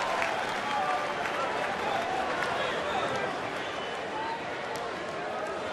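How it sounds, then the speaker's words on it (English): A ballpark crowd at a Toronto at Detroit baseball game applauds Torrey with steady, sustained clapping and cheering that fills the stadium throughout, while a commentator talks over it. "allow this crowd to show their appreciation for Torrey"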